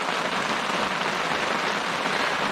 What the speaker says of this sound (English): Yeah, it's the hardest rain we've had.